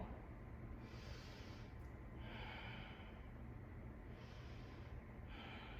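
Slow breathing during a gentle yoga session, long inhales and exhales rising and falling in soft waves over a steady low room hum, with no talk.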